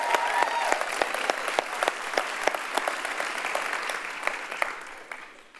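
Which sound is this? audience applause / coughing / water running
audience applause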